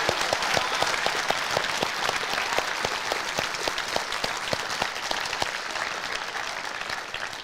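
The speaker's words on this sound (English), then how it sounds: "Want everybody to give our judges a big round of applause." A large crowd applauds the judges at a cast-in-steel competition testing day, dense continuous clapping with sharp individual hand claps, sustained and fairly loud throughout.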